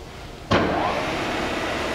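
A Southwestern Industries TRAK 3-axis CNC bed mill with a 40-taper spindle spins up to 2,000 RPM in high range, starting abruptly into a steady, loud broadband whir that holds evenly and close, with no talk.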